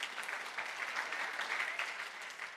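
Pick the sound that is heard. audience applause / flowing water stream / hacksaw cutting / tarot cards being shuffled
audience applause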